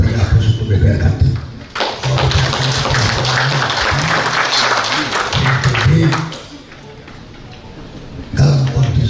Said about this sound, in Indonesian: mari kita beri aplaus untuk BPR Ganti